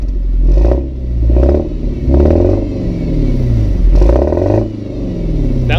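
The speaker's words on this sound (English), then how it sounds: "Bounce it off the rev limiter." A 1994 Lexus SC with a turbocharged engine revs hard and bounces off the rev limiter, its loud exhaust rising and falling in repeated surges, heard up close from inside the car.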